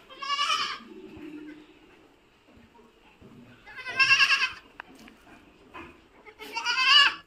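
Goats on a goat farm let out three loud, wavering bleats spaced a few seconds apart, with quiet rustling and faint background noise between them.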